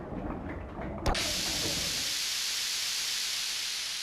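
A machine in the Xenogears video game gives a loud, sudden burst of steam that settles into a steady, even hiss and runs on for several seconds, heard alone with no talking.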